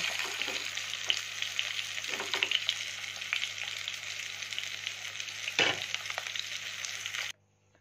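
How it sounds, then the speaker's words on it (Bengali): Fish sizzle steadily in hot oil in a home kitchen, a continuous crackling fry with a few louder spatters and stirring clanks, close and alone until it cuts off abruptly. "বন্ধুরা, মাছ আমার ভাজা হয়ে গেছে।"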